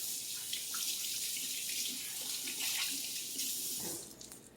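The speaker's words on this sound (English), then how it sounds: "Let me rinse my hands again." A kitchen tap runs steadily while hands are rinsed under it. The splashing water is close and continuous, with no voices.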